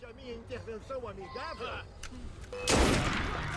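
A loud, sharp gunshot blast in Assassin's Creed Unity cracks out abruptly after a stretch of animated talking, its burst of noise trailing off with a brief rumble.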